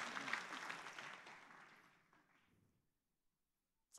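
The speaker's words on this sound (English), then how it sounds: "Come on, let's give God a good clap offering." Applause from a church congregation starts loud and dense, then thins out and fades away to silence over a few seconds.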